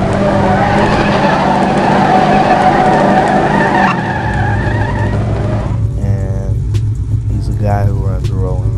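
A drag race car in No Limit Drag Racing 2.0 does a rolling burnout: loud skidding tire squeal and a roaring engine for about four seconds, then it fades into a quieter engine drone while someone speaks.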